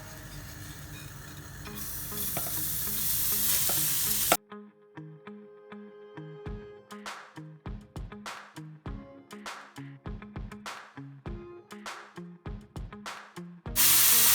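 Zucchini noodles drop into a pan with olive oil and toasted walnuts, giving a loud, hissing sizzle for a few seconds. It breaks into a quiet stretch of rhythmic scraping stir strokes before the sizzle returns at the end.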